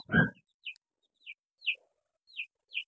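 Baby chickens give a string of short, high peeps spaced about half a second apart, thin and fairly quiet, after one louder burst of noise at the start.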